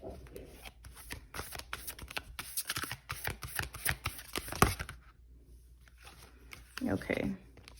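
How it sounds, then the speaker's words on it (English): A deck of tarot cards being shuffled by hand gives rapid, close riffling flutters in quick bursts, followed by quieter handling and a brief soft rustle. "Okay, so let's just shuffle these"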